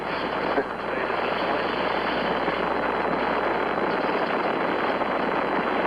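Saturn V rocket lifting off on the Apollo 13 launch, a dense, unbroken roar of broadband rumble that stays loud and steady throughout, heard as a distant broadcast feed.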